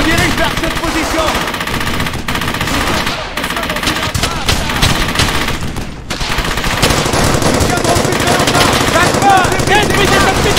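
Enemy machine gun hammering away in the WWII shooter Brothers in Arms: Hell's Highway, loud continuous automatic fire with dense overlapping shots filling the whole stretch, briefly dipping before resuming.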